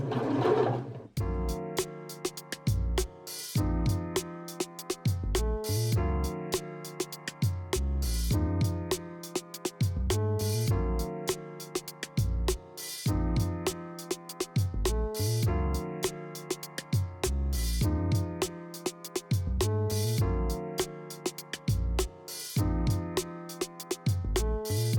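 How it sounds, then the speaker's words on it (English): Janome sewing machine stitching fabric for dungarees, a close, steady mechanical whir running in repeated bursts with short stops between them, no talking. "Lower the presser foot and continue sewing."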